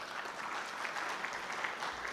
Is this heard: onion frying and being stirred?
no